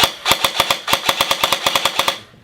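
A G&G ARP9 airsoft gun fires a rapid burst of about fifteen sharp, evenly spaced snapping shots, loud and close, then stops abruptly.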